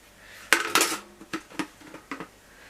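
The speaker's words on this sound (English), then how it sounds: "A deep fat fryer." Someone handles a compact deep fat fryer from Asda, making a few sharp metallic clanks and rattles close by. A loud cluster of knocks is followed by lighter, scattered taps.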